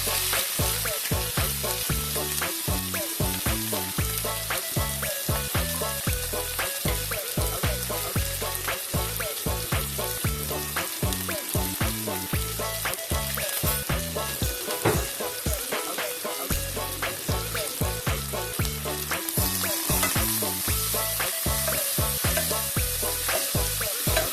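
Two large sliced onions sauté in a pan with cinnamon, cloves and cardamom, making a loud, constant sizzle broken by quick, regular scraping strokes of a stirring spoon that run throughout.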